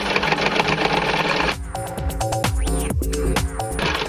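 A home sewing machine runs a tight, strong stitch through knee protector pads: a steady rapid mechanical whir that breaks into shorter start-stop bursts, close and loud, with no voices.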